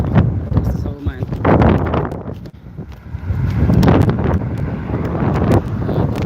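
Strong wind outdoors in Jamaica buffets the microphone in loud, continuous gusty roars that swell and ease, with a person talking underneath.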